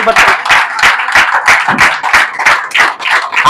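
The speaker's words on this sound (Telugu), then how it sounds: "చప్పట్లు కొట్టేసానా మనం?" Church congregation clapping in a fast, steady rhythm, loud and close, about a dozen sharp claps in a row.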